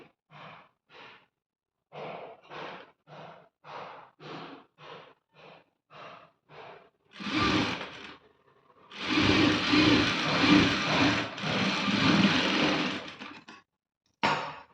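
Sewing machine stitching the side seam of a blouse, first a series of short evenly spaced bursts, then a long continuous run of rapid stitching, close and clear with no talk.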